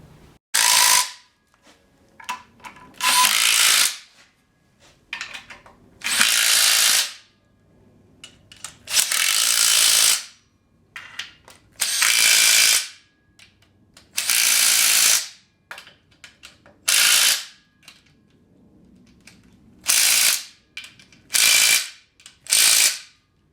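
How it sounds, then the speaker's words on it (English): A ratchet clicks rapidly in repeated close, loud bursts with short pauses between them as it tightens engine mount bolts on a 1957 Chevy fitted with an LS 6.0 engine. "I'm gonna tighten up these bolts since she got everything ready for me."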